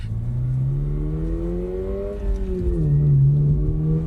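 A naturally aspirated Subaru BRZ engine revs up smoothly, its pitch climbing and then dropping back, loud and close without any speech.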